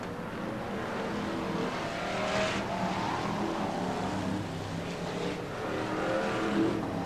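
BriSCA F1 stock cars race flat out at a 1994 Skegness speedway meeting, a steady dense roar of several engines at full throttle, heard from trackside at moderate distance with no break.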